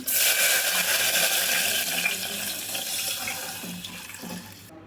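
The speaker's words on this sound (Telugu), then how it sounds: "రసం మొత్తం అయితే ఇట్లా పోసేసుకున్నాం" Pepper rasam is poured into a pot, a loud, continuous splashing gush that stays strong for a few seconds and then tapers off as the stream thins, close by with no talking.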